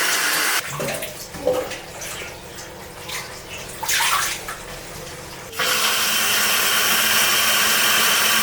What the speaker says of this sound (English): filled it with water, and set it to boil.